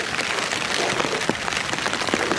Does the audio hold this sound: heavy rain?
yes